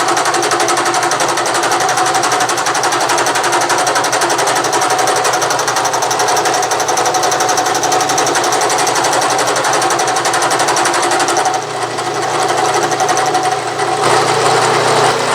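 A loud, continuous drone with busy rapid chatter from a Bridgeport mill cutting gear teeth by direct indexing, steady throughout with a brief dip near the end.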